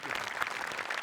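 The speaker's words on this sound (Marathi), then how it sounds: "एकदा टाळ्या वाजल्या पाहिजेत" Brief burst of studio audience applause during a Marathi comedy show, steady clapping at moderate level throughout the short moment.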